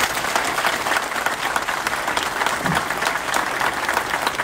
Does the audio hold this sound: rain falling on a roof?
no